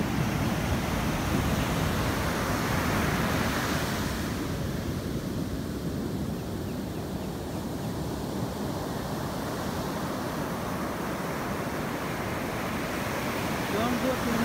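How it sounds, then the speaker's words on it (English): Heavy sea surf crashes and rumbles continuously in a broad, steady roar with gusts of wind across the microphone, close and fairly loud, with no pauses between waves. "The sea is dangerous today, making so much big noises."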